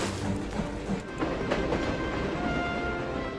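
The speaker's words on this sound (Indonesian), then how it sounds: "Dia mengejar kereta api yang baru saja berjalan dan berhasil mencapainya." Steam-era train pulling away, a rolling rumble with rattling wagons and faint clatter, steady and moderately loud with no voices.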